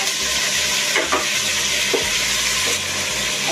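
Tomatoes with onion and garlic sauté in a pan for mung beans, a steady loud sizzle broken by a few scraping stirs, with no talk.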